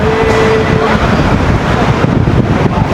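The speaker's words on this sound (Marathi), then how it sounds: "हैदराबादमध्ये पाऊस चालू झाला आहे जोरात चालू झाला आहे." Heavy rain pours steadily in Hyderabad near a railway platform, a dense continuous wash of noise that stays loud and even throughout with no voices.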